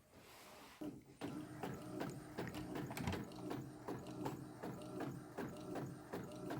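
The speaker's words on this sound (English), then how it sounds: "And that's my printer up there working now." A home printer prints a page, its mechanism clicking and ratcheting in a quick, regular rhythm after a short quiet start, fairly faint and heard from a little distance.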